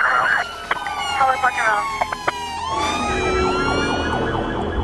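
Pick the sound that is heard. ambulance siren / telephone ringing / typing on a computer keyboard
ambulance siren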